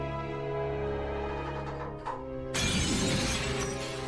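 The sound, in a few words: window glass shattering, from a video game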